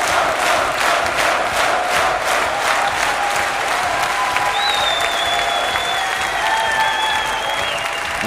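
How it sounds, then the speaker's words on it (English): A large crowd at the Dreamhack StarCraft 2 grand finals applauds the champion, with dense sustained clapping and scattered cheers and whistles throughout. "the crowd are loving it"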